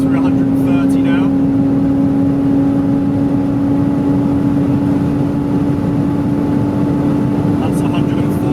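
A BMW Z4 engine holds a steady, loud drone at high speed in upper gears during a top speed run, with strong wind and road roar throughout and no clear gear changes.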